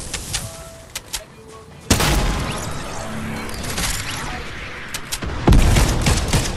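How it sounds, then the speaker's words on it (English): A booming rocket launcher blast erupts in a video game, then a second heavy explosion with scattered gunfire around it, loud and close, with players talking over the action. "I just got fucking rocket launched."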